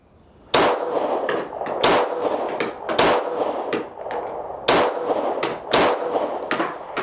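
Five sharp gunshots from a mid-1990s Ruger P95DC 9mm pistol ring out at an outdoor range, fired offhand at an uneven pace, each loud crack followed by a short ringing decay.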